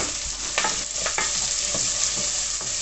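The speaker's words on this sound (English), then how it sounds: "If you hear it sizzling, it's ready to go. Mine's sizzling." Onion and chilli sizzle loudly in a hot frying pan, a constant crackling hiss with a few sharp scrapes of stirring.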